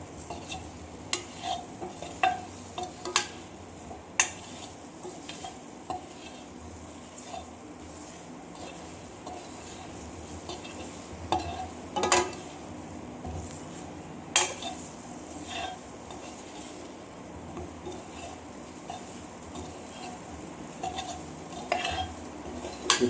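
Quail egg and mushroom masala gravy stirred in a pan, giving soft scraping and clinking of a spoon against metal with a light sizzle underneath, steady and close with no voices.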